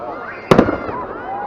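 A New Year firework salute bursts with a sharp double crack followed by crackling, set against an outdoor crowd murmur with people talking.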